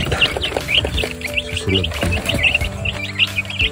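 Newly hatched chicks kept apart from their mother hen in a rural yard cheep in rapid, overlapping high peeps, with an occasional lower cluck from nearby fowl.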